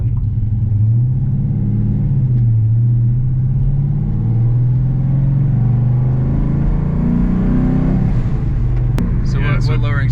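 A Dodge Scat Pack cruises with its exhaust cutouts closed, giving a loud, steady low engine drone that rises and falls gently with throttle, close inside the car, with a voice speaking briefly near the end.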